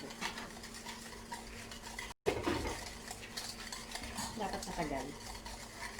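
A spoon stirs dalgona coffee mixture of instant coffee, sugar and hot water in a bowl, with repeated scraping and clinking close by and a brief dropout midway; a voice speaks briefly.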